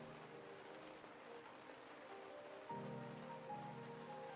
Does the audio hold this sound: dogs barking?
no